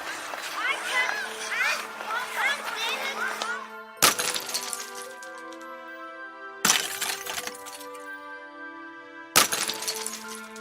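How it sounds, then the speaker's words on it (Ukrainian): A falling icicle shatters in three separate crashes, each a bright glassy break followed by long ringing, tinkling decay, after an opening stretch of playful children's voices. "Бурулька, що впала."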